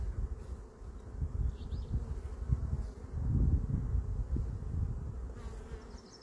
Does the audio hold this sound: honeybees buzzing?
yes